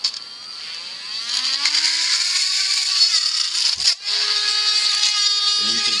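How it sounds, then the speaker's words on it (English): A Dremel rotary tool at high speed with a long 1/8 inch bit drills through a plunger tube, giving a close, steady high-pitched whine with brief pitch dips as the bit bites and a short break near the middle. "I do that with a Dremel bit that's really long, and it's a 1/8 inch Dremel bit that I can set to a high speed"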